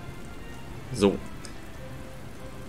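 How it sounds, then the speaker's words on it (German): Heavy rain falls in the Pokémon Alpha Sapphire video game, a steady soft hiss of rainfall throughout, with a brief spoken word near the middle. "hier rund um Seneroville, Moosbach und Seegrassel ist ganz schön heftiger Regen"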